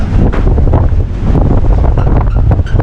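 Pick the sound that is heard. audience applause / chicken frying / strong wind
strong wind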